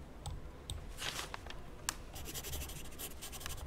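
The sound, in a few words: pen writing on a form, from the video game Star Stable Online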